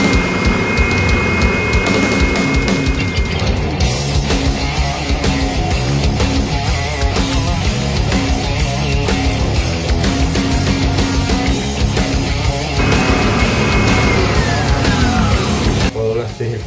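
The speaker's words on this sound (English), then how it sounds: "I'm just going to try and smooth it off on the oscillating spindle sander and give it more of a rounded edge" Oscillating spindle sander smoothing and rounding the edge of a guitar part for a custom Gibson Epiphone Les Paul: a loud, steady machine whir with grinding contact throughout, its pitch shifting as the workpiece is pressed in and eased off.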